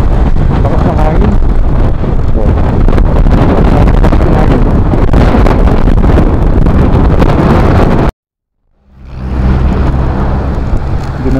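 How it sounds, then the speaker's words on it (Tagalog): Strong wind buffets the microphone on a mountain road in Buguias, Benguet, a loud continuous roar that cuts out abruptly for a moment before rushing back in. "lakas ng hangin"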